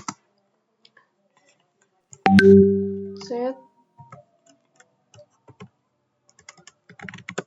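Sparse, light key clicks come from a computer keyboard as a command is typed for MikroTik network configuration, broken by a brief loud tonal burst in the middle, then more scattered taps near the end.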